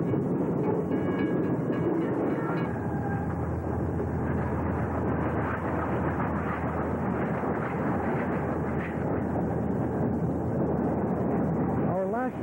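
A pair of CN Rail MLW M420 diesel locomotives pull into the west end of Belleville Yard in Ontario, their loud, steady engine rumble and rolling wheels filling the whole stretch, with brief squealing tones near the end.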